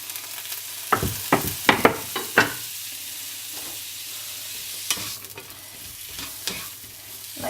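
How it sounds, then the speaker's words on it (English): Onion and zucchini sauté in a warm pan, a soft steady sizzle underneath a cluster of sharp scraping stirs early on, then quieter with a few more scrapes later; nearby and alone, no talking. "I chuck in the onion and the zucchini first"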